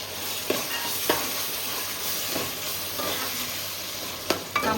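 Tomatoes being stirred into a curry frying in a pan, with a steady close sizzle and a few sharp spoon scrapes against the metal, no voices.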